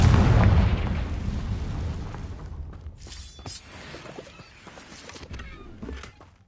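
A Confringo blasting curse from Hogwarts Legacy goes off with a heavy, loud boom right at the start, then rumbles and fades. Scattered smaller pops and crackles follow as the blast dies away.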